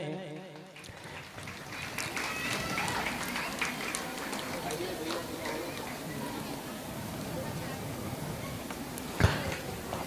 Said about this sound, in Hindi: जोरदार की तालियां हमारे इन संतों के लिए